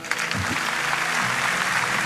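A church congregation applauds during a live service, a dense, steady wash of clapping that fills the room for the whole stretch, loud and close with no talk over it.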